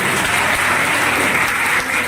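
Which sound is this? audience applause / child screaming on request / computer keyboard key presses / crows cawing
audience applause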